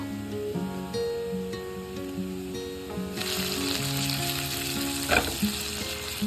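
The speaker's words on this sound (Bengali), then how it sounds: "তেলের মধ্যে পেঁয়াজের সাথে এটা আগে ভাজা ভাজা হয়ে যাক" Onion fries in leftover fish oil with dry chilli, bay leaf and ginger paste, hissing steadily and up close. The sizzle gets brighter partway through, and there is a short clatter near the end.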